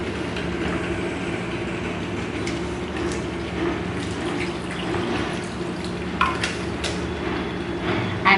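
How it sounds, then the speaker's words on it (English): Water pours into a pan of frying chicken, a steady rushing hiss and sizzle lasting the whole stretch, with faint clinks and stirring toward the end. "at this stage I'm going to add some water to it"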